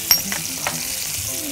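Herbs sizzle in a frying pan while cooking meatball pasta, giving a steady close hiss with a few soft stirring scrapes and no talk.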